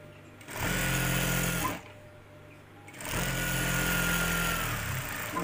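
A sewing machine stitching the front and back pieces of men's trousers together, running in two close, steady bursts of whirring stitches separated by a short pause.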